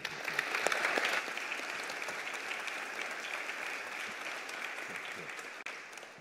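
An audience at a church worship service applauds to welcome a guest preacher, steady clapping from many hands filling the room for several seconds before tapering slightly.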